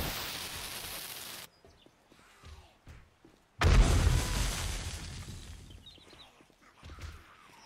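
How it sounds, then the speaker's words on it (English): A sneak-damage pipe bomb goes off in 7 Days to Die, a single sudden boom with a rumbling, fading tail that follows a stretch of quieter thuds and movement. "Let's see what happens when you do a sneak damage pipe bomb."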